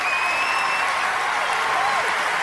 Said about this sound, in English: You can have a round of applause there for Monkey.